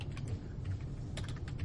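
Rapid typing on a computer keyboard, soft irregular clicks in quick bursts at close range over a low hum, with no speech.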